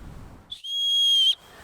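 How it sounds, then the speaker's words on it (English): A bear whistle gives one short, shrill, steady blast of under a second, loud and close, cut off sharply at the end. "A bear whistle?"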